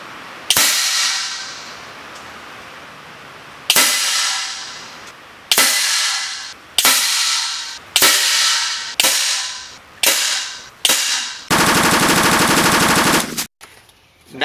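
FX Bobcat air rifle firing in separate sharp cracks, each trailing a short decaying ring off a metal target, spaced a second or two apart, then a dense continuous rattle near the end.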